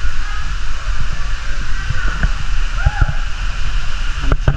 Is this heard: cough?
no